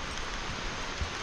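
Steady broadband rushing of flowing water near Westridge Falls in Helen, Georgia, continuous and fairly loud, with no voices.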